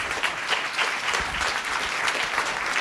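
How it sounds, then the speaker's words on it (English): Audience clapping after a public lecture, a dense, steady round of applause that holds at an even level throughout. "Big round of applause, everybody."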